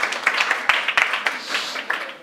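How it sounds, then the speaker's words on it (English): Applause from an audience at a startup pitch challenge on food systems, a short burst of many hands clapping at moderate loudness with a few sharper individual claps standing out, and no clear voices over it. "Okay, very big applause."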